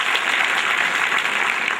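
Loud, dense applause from the audience at a Hindi health talk on AIDS prevention, many hands clapping at once in a continuous wash with no speech over it.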